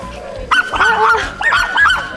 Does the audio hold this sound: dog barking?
yes